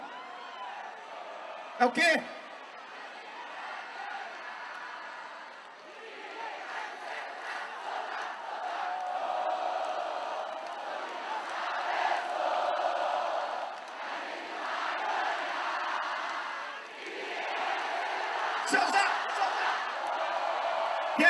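A large crowd of fans roars and cheers at a concert for a 170th anniversary celebration. The sustained crowd noise swells and dips over the whole stretch, with someone talking over it and a couple of sharp bursts.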